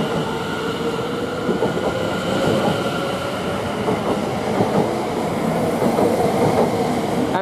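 Greater Anglia passenger train to Ipswich pulling out of Manningtree station, a steady loud rumble of wheels on rails with rhythmic clatter building over several seconds, no voices.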